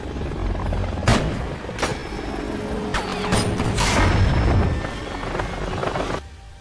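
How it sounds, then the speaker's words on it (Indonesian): Film scene of a helicopter being shot down: a loud, continuous rotor-and-engine roar carries several sharp gunfire or impact bursts, building into a big explosive crash before the noise cuts off abruptly near the end. "Dan akhirnya Swigger berhasil menembak jatuh heli tersebut"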